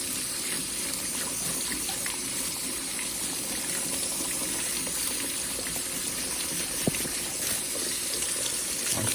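Tap water runs steadily into a kitchen sink while carrots are washed for vegetable stock, a continuous close hiss and splash with a single small knock near the end.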